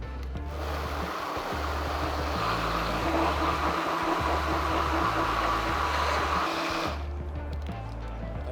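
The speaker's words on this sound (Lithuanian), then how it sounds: "viską sutriname" A blender grinds parsley, sugar, apple vinegar and oil into a parsley oil: a loud, steady whirring roar that holds for about seven seconds, then cuts off abruptly.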